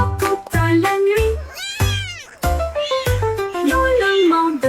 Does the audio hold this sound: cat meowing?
yes